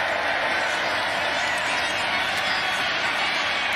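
Steady, loud roar of a standing college football crowd at McLean Stadium, broad cheering and clapping blended into a continuous wash with no pauses.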